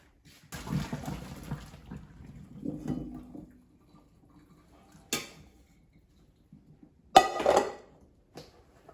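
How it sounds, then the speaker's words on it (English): Water from Instant Pot cooked potatoes drains out in uneven splashing bursts, with a longer pour early on and short clanks of a pot near the end, close and moderately loud with no talking. "So just drain water out."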